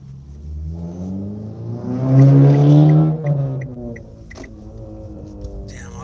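A loud combustion-engine car passes on a street in Fresno, California, its engine note swelling to a roaring peak and then fading as it drives away.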